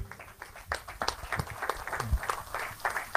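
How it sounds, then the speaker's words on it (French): A church congregation applauding, a scattered ripple of hand claps at moderate distance, fairly quiet and uneven throughout. "Acclamons"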